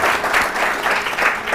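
Studio audience at a televised morning show bursts into steady, dense clapping that fills the whole moment, loud and close with no voices over it.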